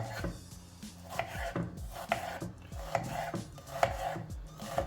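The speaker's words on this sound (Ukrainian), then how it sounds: "Нарізаємо, жаримо цибульку, морку." A knife chops onion and carrot for solyanka on a cutting board, a rhythmic series of close, crisp knocks repeating about every second, with no talk.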